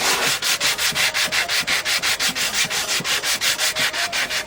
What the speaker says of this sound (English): I'm using a sponge under the sandpaper